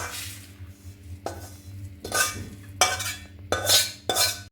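Roasted dry coconut is scraped out of a hot pan with a metal utensil, giving five or six separate scraping, clattering strokes over a low background hum, with no talking.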